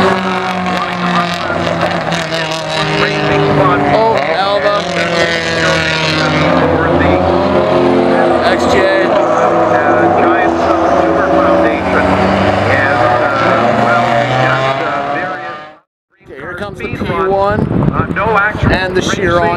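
Bugatti Chiron and other hypercars, among them Ford GTs and a McLaren P1, race on a track with loud, sustained engine roar and shifting tones as cars pass close by, a brief drop near the end, and talk over the engines.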